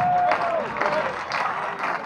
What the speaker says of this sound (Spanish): Y ya les vamos a acompañarle con estas palmas.